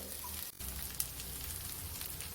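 Potato and semolina tikki frying in a little oil on a griddle, a quiet, steady sizzle with fine crackling and one brief tick, no talk.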